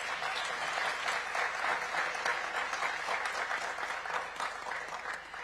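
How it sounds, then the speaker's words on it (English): A conference audience gives panelists a sustained round of applause, dense steady clapping from a large crowd that holds at even loudness for several seconds. "Please give them a round of applause."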